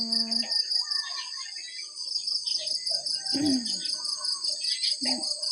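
Evening outdoors during a meal, a steady high shrill of insects and frogs calling runs throughout, close and continuous, with voices talking briefly underneath.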